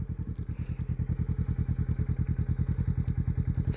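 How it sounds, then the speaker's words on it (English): A heavy Kawasaki Vulcan S motorcycle idles close by while being maneuvered out of a tight spot, its engine thumping in a fast, even pulse throughout. "Trying to get my bike out of here."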